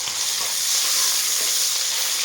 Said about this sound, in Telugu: ఈ పేస్ట్ వేసి ఒక 5 మినిట్స్ వేయించుకోవాలండి.